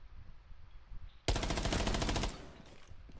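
Rainbow Six Siege gunfire: a loud, rapid automatic burst of shots erupts after a quiet stretch and hammers on for about a second before cutting off, with faint game ambience around it.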